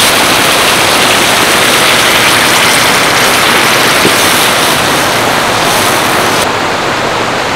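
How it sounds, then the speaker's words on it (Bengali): Water is poured into spiced masala frying in a pan for bitter gourd curry, setting off a loud, dense, hissing sizzle that fills the whole stretch and eases slightly near the end. "এবার আমি এর মধ্যে দিয়ে দেবো জল"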